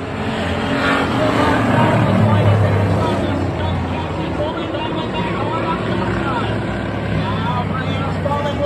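Stock cars racing at Oxford Plains Speedway as the field gets underway under green, a loud continuous roar of engines filling the whole stretch, with a crowd murmur beneath.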